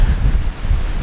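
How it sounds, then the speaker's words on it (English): Strong gusts buffet the microphone outdoors as a loud, low rumbling roar that swells and dips, with a faint rustle over it. "this crazy wind"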